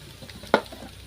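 Carrots and capsicum frying for restaurant-style chicken fried rice, a soft steady sizzle with one sharp stirring clack in the middle.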